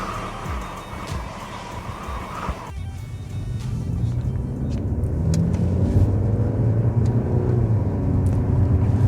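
A car drives steadily through storm conditions in Snowdonia, its engine and road noise rising into a continuous low hum after a brief rustle at the start.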